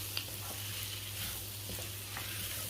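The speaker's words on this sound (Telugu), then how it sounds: "ఇప్పుడు ఈ మసాలా వేసి కూడా ఒక 30 సెకండ్స్ ఫ్రై చేద్దాం" Masala spices frying in a pan for biryani, a steady, moderate sizzle with faint stirring scrapes over a low background hum.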